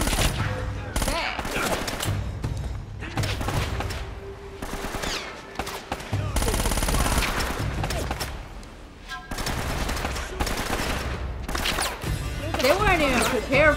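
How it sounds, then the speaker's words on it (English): Tommy gun bursts rattle repeatedly in Uncharted: Drake's Fortune, with long stretches of rapid automatic fire broken by brief pauses, loud and close, alongside crashes and gunfire in the background. "this is a tiny Tommy gun"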